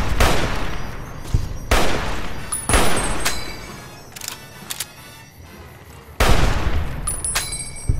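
Gunfire from the player's gun in Fallout: New Vegas: several loud, sharp bursts spaced across the clip, with a trailing ringing tone after some shots and quieter crackling in between.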